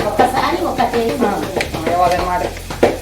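Brinjal bajji, sliced eggplant fritters, sizzling and crackling as they fry in hot oil, with steady bubbling and occasional stirring close by.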